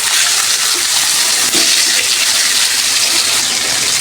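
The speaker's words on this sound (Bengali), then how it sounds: "মাছটা দিয়ে দিলাম" A piece of rohu fish hits hot oil in a frying pan and sizzles loudly, a broad, steady crackling hiss that keeps on throughout.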